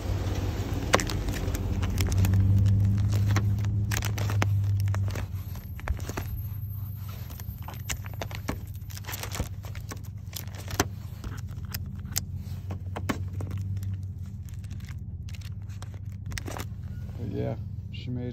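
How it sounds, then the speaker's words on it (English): A 2018 GMC Sierra Denali pickup with a fully built 6.2 V8 and a new pump runs steadily on a chassis dyno, a low sustained engine drone rising briefly early on, with clatter and scattered transient noises over it. "That's the new pump, truck on the dyno."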